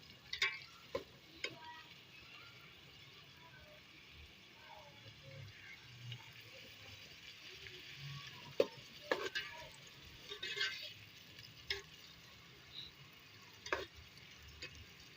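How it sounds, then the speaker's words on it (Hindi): Onions browning in oil in a pan for chicken korma give a soft, steady sizzle with occasional sharp clinks of stirring, quiet and close. "तो प्याज जब ब्राउन हो जाएगा तो प्याज ब्राउन हो रहा है"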